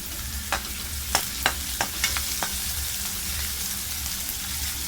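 Onion and curry leaves frying in hot oil in a kadhai for Malvani black pea usal, a steady close sizzle with several sharp spatula scrapes and clinks as the mixture is stirred.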